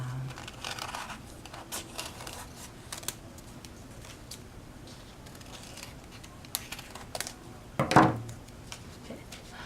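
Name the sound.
scissors cutting folded tissue paper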